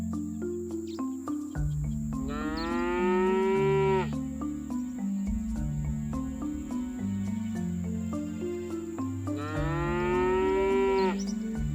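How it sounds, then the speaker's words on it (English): Two long, loud cow moos sound in the video game Scott Whiskers, separated by several seconds, each rising over continuous game music. "something tells me that cow doesn't like the music on my radio"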